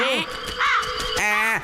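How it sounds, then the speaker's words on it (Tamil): A crow caws in a Motu Patlu cartoon, three loud nasal caws in quick succession, bright and close, with cartoon voices layered around them. "உண்மையாலுமே வெள்ளை காக்கா வந்துடுச்சு"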